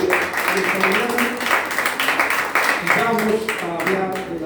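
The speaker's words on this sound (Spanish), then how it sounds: "Denle un fuerte aplauso a Dios." A church congregation gives a loud round of applause during a service, a dense, rhythmic clapping of many hands that continues steadily with voices speaking and calling out over it.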